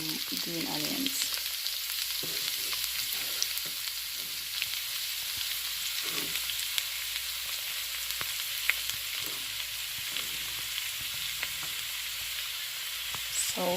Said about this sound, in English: allow this to stir fry a bit, fry up nicely into the oil